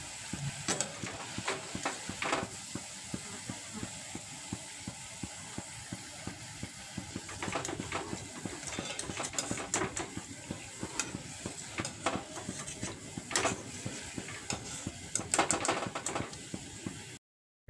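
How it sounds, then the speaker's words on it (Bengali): Palm fritters (taal bora) frying in hot oil over a medium gas flame, a steady soft sizzle and bubbling throughout, punctuated by occasional stirring clinks and knocks, with no talking. "এবার গ্যাসের ফ্লেমটা মিডিয়ামে দিয়ে বড়াগুলো লাল লাল করে ভেজে নেব।"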